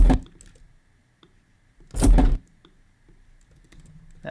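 A pepper grinder sample, pitch-shifted up to act as a shaker, gives two short, crunchy, broadband bursts about two seconds apart. Faint ticking fills the gaps, and no one speaks.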